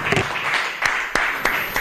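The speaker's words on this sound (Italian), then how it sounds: "Ancora un applauso a Franco Del Monte." Applause rises from a studio audience on an Italian TV show for a guest, Franco Del Monte, with a few sharp claps standing out over the steady patter in a short burst.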